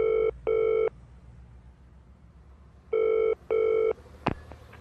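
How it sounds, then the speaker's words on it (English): A telephone rings on an outgoing call: two double-burst rings, loud and clear, separated by a quiet pause, followed by a brief click as the line is picked up. "So I found my phone and called Wing"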